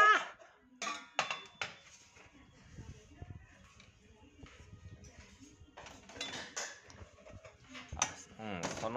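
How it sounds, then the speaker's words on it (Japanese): A one-year-old toddler pulls a metal pot and lid from a kitchen cupboard, giving sharp clanks and clinks in scattered bursts close by, with an adult talking and a voice between the knocks. "この鍋と蓋は合ってるよ"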